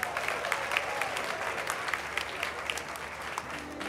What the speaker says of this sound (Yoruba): ó yá bá àtẹ́wọ́ fún ara ẹ̀